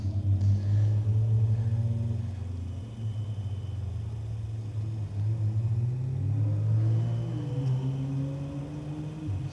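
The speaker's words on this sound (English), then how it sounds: "we can hear cars coming up the creek" Rally cars come up a creek at a stage event, a continuous low engine rumble droning from a distance, rising and falling slightly as the vehicles approach.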